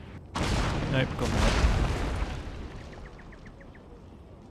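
Shrapnel shot artillery explosions from a Shogun 2: Fall of the Samurai battle, a loud booming burst that fades into rumbling and a faint rapid rattle, with a voice speaking briefly over it.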